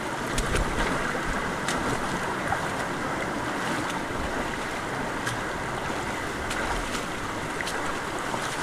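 Strong water current rushes through a cave, a steady dense roar of flowing water that stays constant and fairly loud throughout, with no voices.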